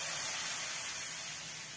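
Galette batter sizzling and hissing in a smoking hot pan, a steady, bright, fairly soft frying hiss that holds evenly throughout with no other sounds.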